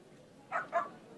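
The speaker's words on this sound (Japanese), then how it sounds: "この犬このまま吠え続ける" Two quick, faint dog barks in the video game Like a Dragon: Ishin!, sounding in close succession against a quiet background.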